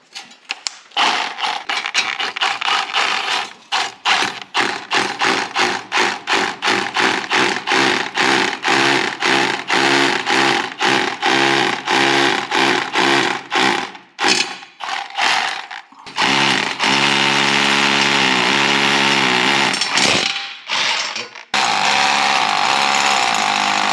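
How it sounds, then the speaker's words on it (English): A power drill bores anchor holes for a shelf bracket, its motor whirring in long repeated bursts with a ratcheting, grinding edge, stopping and restarting several times, close and loud with no talk. "So we've got our holes drilled."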